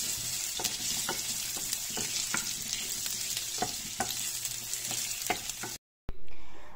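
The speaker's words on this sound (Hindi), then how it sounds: "सबसे पहले हमने पोटैटो डाले हैं, उनको हम दो तीन मिनट तक फ्राई करेंगे" Potatoes frying in a pan for a mix vegetable dish, a steady close sizzle with regular scraping stirs of a spatula, ending in a brief gap and a louder burst.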